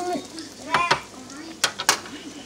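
Crappie fillets hit deep-fryer oil at 350°F with bursts of bubbling sizzle, along with a few sharp clinks of utensils and brief scraping.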